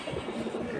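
Pigeon cooing close by among fancy pet pigeons, a soft, low, rolling coo over under a second, moderately quiet and alone.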